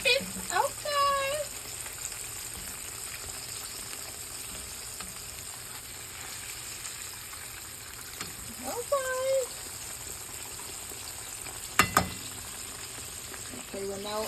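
Beef liver frying crisp in a pan, a steady low sizzle running throughout with occasional clinks of a utensil, while a few brief voice sounds come through faintly.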